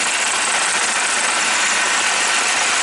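A milling machine takes a deep, heavy roughing cut into an aluminum cooling block for a Flycolor 150A electronic speed controller, giving a steady, loud, broadband grinding roar with a strained engine-like drone throughout.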